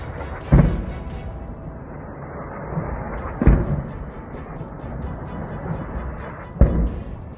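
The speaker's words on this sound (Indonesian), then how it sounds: "Ledakan demi ledakan mengguncang Tel Aviv." Missile strikes on Tel Aviv: three heavy, booming explosions spaced a few seconds apart, each with a sharp onset and a rumbling tail over continuous low background noise.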